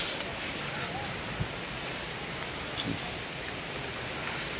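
Rain falls on a slippery forest trail toward Lang Long waterfall in Thanchi, Bandarban, making a soft, even hiss throughout with a couple of faint thumps.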